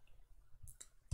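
A computer mouse clicks in quick succession, a few small, faint taps close to the mic in an otherwise quiet room.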